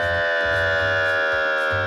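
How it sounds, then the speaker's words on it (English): An ASC Ailertronics electronic siren wails loudly and steadily at close range. It stays as a sustained tone with strong harmonics and slight pitch movement, while a low pulsing rumble underneath cuts in and out. "This is an ASC Ailertronic siren"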